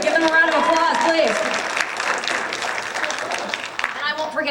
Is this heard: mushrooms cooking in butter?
no